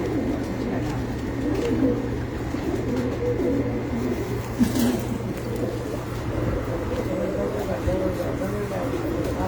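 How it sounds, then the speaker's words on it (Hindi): A TT pigeon coos on a rooftop, with soft, repeated low calls over a steady background hum that runs through the whole stretch. "ये एक टीटी कबूतर है जी माशाल्लाह"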